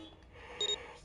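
Short electronic authentication beeps sound at a door in the video game 999: Nine Hours, Nine Persons, Nine Doors, a quick pair of bright tones over a quiet background.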